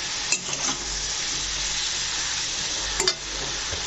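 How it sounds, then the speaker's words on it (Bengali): Brinjal fries in a pan with turmeric and salt, giving a steady, close sizzle with a few soft scrapes of a stirring spoon and no voices. "তো এগুলো দিয়ে এটাকে ভালো করে আমি নাড়াচাড়া করে নেব।"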